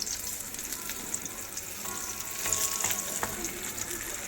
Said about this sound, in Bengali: একটুখানি চট করে বেগুন ভাজছি